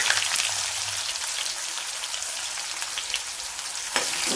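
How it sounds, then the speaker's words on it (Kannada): Chopped onion fried with mustard and cumin seeds for aloo masala rice, giving a steady, fairly quiet rain-like sizzle that holds evenly throughout, close by, with a brief clatter near the end and no voices. "ಇವಾಗ ಈರುಳ್ಳಿನ ಒಂದು ಸ್ವಲ್ಪ ಫ್ರೈ ಮಾಡ್ಕೊಳ್ತೀನಿ"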